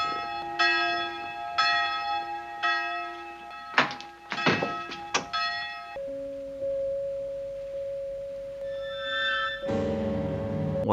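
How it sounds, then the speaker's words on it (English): Class bells ring in a 1962 Twilight Zone TV episode, sounding as repeated loud resonant tolls with a cluster of rapid strikes, then giving way to a sustained tone and eerie music. "Class bells? Well, that's odd. Why would they ring now?"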